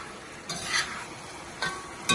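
Braised pork belly sauce simmering and reducing in a pan, a soft continuous sizzle with a few short scrapes of a spoon stirring it, close by.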